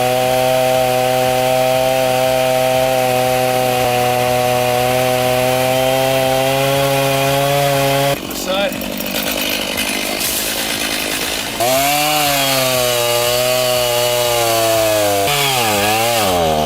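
A chainsaw runs loud and close, holding a steady high whine for several seconds, then bogs down and cuts into wood with rough, fluctuating revs before speeding up again near the end.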